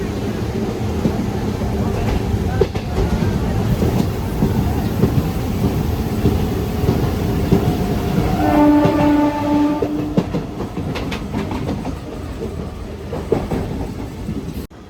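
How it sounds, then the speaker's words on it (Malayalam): A MEMU passenger train near Thrissur rumbles loudly along the rails, heard from on board as it approaches a bridge, with a constant heavy roar, clattering wheels and a sustained horn blast partway through. "ഈ ബ്രിഡ്ജിൻ്റെ മേലെ കൂടെ ട്രെയിൻ പോകുമ്പോൾ എല്ലാവരും നോക്കാട്ടോ ചെയ്യുക ഒരു വ്യൂ"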